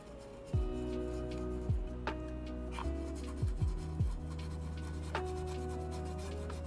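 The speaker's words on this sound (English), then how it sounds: "I'm kind of pushing the brush forward, scruffing it around side to side." A paint brush scrubbing whitewash over red-painted wood in winter, with short close scratchy strokes pushed forward and side to side at irregular intervals over a steady low hum.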